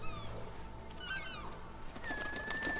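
Seagulls cry in the game Rime, a few thin, rising squeals and chirps scattered over a quiet ambient background, fairly faint and spaced apart.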